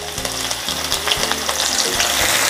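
Thinly sliced shallots sizzle steadily in hot oil in a pan, a dense, close frying hiss with soft stirring knocks underneath and no voices.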